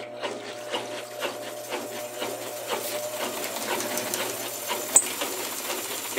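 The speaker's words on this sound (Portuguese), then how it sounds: "Vai a máquina iniciar a centrifugação." Washing machine motor tested directly without its control board, starting its spin cycle: a steady mechanical whir with a faint hum and a quick repeating ticking pulse, fairly quiet and close, with one brief sharper click near the end.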